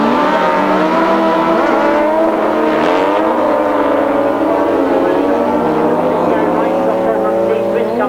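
Grasstrack racing motorcycles and sidecars roar past in a loud, continuous engine drone with rising and falling revs, under a commentator's voice.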